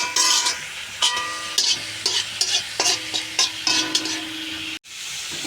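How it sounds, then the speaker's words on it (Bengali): White sesame seeds dry-roast in a kadai with no oil, stirred with a utensil that scrapes and clinks against the pan in regular close strokes over a light crackling sizzle. "আমি কড়াইয়ের মধ্যে একটুখানি সাদা তিল নিয়ে নিয়েছি। এবার একটু ভেজে নেব, খোলায় ভাজবো, আমি তেল দেবো না।"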